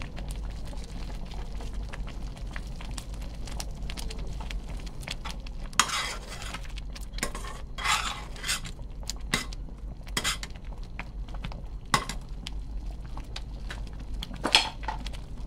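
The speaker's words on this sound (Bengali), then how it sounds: "আরেকটি স্পুন দিয়ে নাড়িয়ে নাড়িয়ে স্যুপ মিক্স করে নিতে হবে" A spoon stirs beaten egg into a spicy fish soup in a pot, soft swishing with intermittent clinks and scrapes against the metal, close and steady with no voices.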